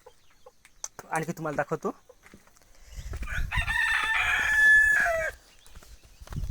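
Free-range country chickens give short clucks, then a rooster crows loudly and at length nearby; someone talks briefly in between, and low rumbling handling noise sits under the crow.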